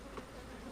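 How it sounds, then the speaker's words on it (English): Honey bees buzzing at an apiary in North Florida, a soft, steady hum that stays faint and continuous through a brief moment, with no speech. "I'm just showing you some bees in North Florida"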